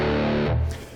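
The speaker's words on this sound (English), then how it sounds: "using these really dirty and retro type distortion things" Dirty, retro-style distorted electric guitar in a New Age blues setting, a thick sustained chord ringing loud for about half a second before shifting lower and fading out.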